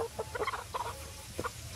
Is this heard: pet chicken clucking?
yes